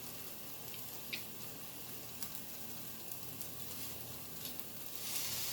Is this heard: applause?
no